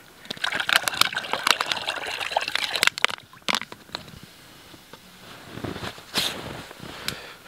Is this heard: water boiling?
yes